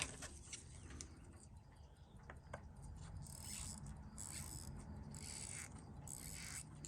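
Faint, rapid mechanical clicking and ratcheting as a Seiko 6139-8020 chronograph watch movement is force wound, quiet and close with irregular bursts of ticks.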